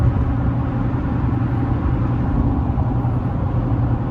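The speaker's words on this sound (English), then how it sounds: "As you can see here on the asphalt section of the highway, it's really quiet." Nitto Exo Grappler tires on a Toyota Tundra roll along an asphalt highway, giving a steady, even low road rumble with a soft hum and no talk.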